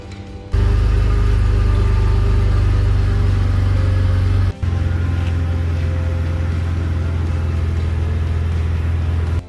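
Manual BMW E46 wagon, rebuilt from a salvage auction, driven on its first test run on the road outside a shop: a loud, steady mid-pitched engine hum that starts abruptly, briefly cuts out mid-run, then resumes until the end.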